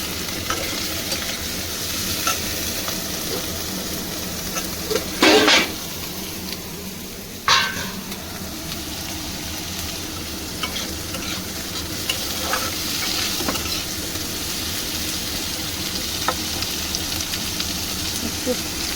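Tomato and capsicum fry in oil over a high flame, a continuous loud sizzle with stirring scrapes and a couple of sharp bursts of spatter, without speech.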